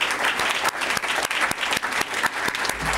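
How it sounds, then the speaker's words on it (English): Warm round of applause at the CREST Awards ceremony, a full audience clapping steadily and loudly throughout, dense and continuous with no speech. "Give him a warm round of applause."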